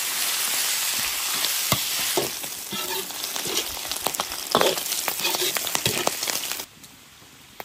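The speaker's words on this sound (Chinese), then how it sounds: "先炒肉， 首先炒出猪油，" Pork sizzles loudly in an iron wok as the fat renders for twice-cooked pork, a dense steady frying hiss broken by crackles and scraping stir strokes, before the sizzle suddenly drops away near the end.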